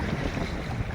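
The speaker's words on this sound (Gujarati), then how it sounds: "ઊંચા મોજા આવે છે." Sea waves rolling in at a shore where fishing is under way, a dense continuous wash of surf mixed with wind buffeting the microphone, loud and close.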